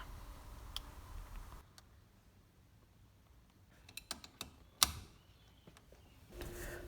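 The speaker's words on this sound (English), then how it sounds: "With a firm grip on the factory horn button, press down and pull back." A factory horn button being pried off a Fox Body steering wheel gives a few quiet, sharp clicks and one crisp snap near the middle, with no talking.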